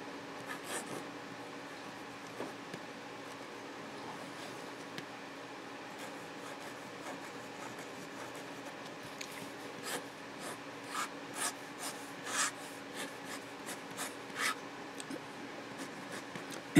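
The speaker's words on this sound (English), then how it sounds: "And the pen really writes nicely. A nice, sweet, fine nib." Fine-nibbed Pelikan Apatite fountain pen scratching across paper, a soft continuous rasp broken by a string of short, faint strokes, heard alone and close.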